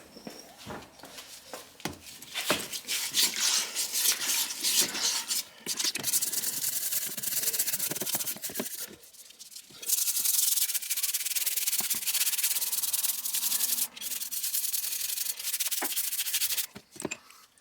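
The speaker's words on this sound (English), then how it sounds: "Let me grab my scrubber here." Forge scale being scrubbed off hand-forged coil-spring knife blades with a scrubber after a long soak, giving close, loud, continuous abrasive rubbing strokes with brief pauses and no talking.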